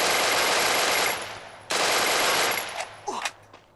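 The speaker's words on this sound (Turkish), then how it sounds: "Arkadan sıkıyorum." Rapid automatic gunfire from the Free Fire mobile battle royale game, loud sustained bursts broken by a short gap, ending in a few scattered shots with faint sound effects.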